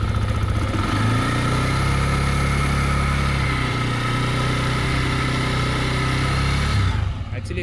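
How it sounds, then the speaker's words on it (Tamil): A TVS Apache RTR 160 2V motorcycle engine, 2025 model, holds a steady throaty idle close by, then the throttle is blipped, and the sound cuts off near the end. "எஸ், ஒரு ரெவ் பண்ணி பார்ப்போம்."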